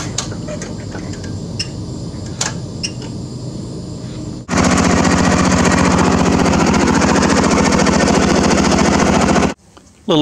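A small-engine rollback vehicle with a newly flipped front pulley runs wide open, a loud, steady buzzing drone that kicks in abruptly partway through after quieter idling and clatter, then cuts off near the end.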